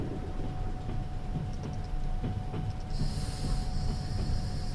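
A train in the Trans-Siberian Railway Simulator game rumbles along with steady rolling noise, a constant tonal hum and faint clanking ticks, then a hissing air release joins partway through.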